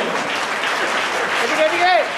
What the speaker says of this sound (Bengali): সবাই দূরে করতালির মাধ্যমে।